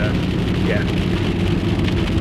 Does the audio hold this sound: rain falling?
yes